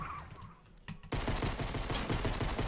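Rapid automatic gunfire from a Fortnite video game crackles in a loud, sustained burst after a brief quieter moment, with shots close together and no talking.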